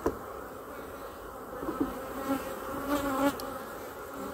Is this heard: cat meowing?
no